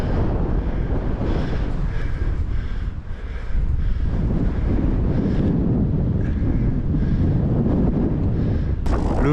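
Strong wind roars and buffets the microphone steadily on a cold, snowy mountain summit at l'Audibergue, a loud continuous rush with gusts and no talking.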